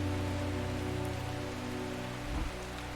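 Steady rain falls across a scene in the video game Strange Horticulture, a dense even patter on surfaces with a low continuous hum beneath it and no voices.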